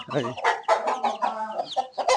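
Fighting roosters cluck and squawk continuously at close range, a busy stream of agitated, throaty calls.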